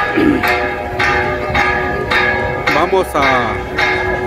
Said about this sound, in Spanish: Como podemos oír, estamos a mediodía, está sonando la campana.